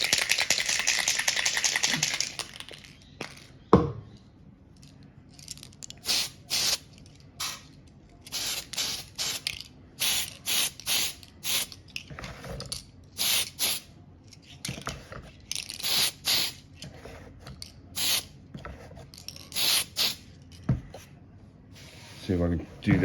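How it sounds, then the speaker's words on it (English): Spray can of Gunship Grey TS48 paint applied to a model Dodge Viper car body, a series of short hissing bursts separated by pauses, with a few handling clatters between sprays. "So now I'm going to spray it with this, which is a Gunship Grey"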